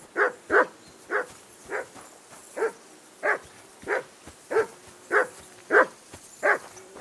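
A dog barks in Kingdom Come: Deliverance II, giving about a dozen loud, evenly spaced single woofs in a steady rhythm close by, with no talking over them.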